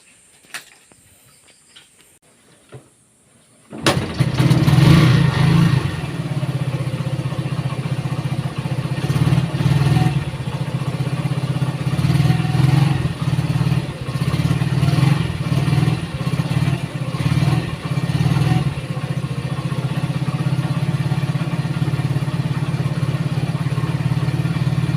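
A Honda TMX 125 motorcycle engine starts after a few seconds of faint clicks and then idles steadily and close for the rest, a low even putter with some light mechanical clatter and no talk.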